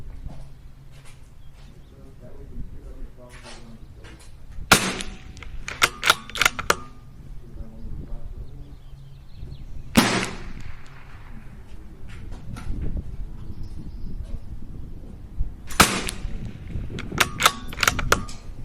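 Rifle shots at an outdoor shooting range in windy conditions: three loud, sharp cracks spaced several seconds apart, with mechanical clicks and handling noises in between over a soft background.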